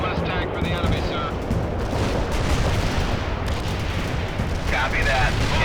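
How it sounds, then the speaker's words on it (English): Heavy artillery barrage in the World in Conflict video game, a dense continuous roar of rumbling blasts and booms throughout, loud and sustained without clear breaks. "Heavy artillery barrage inbound."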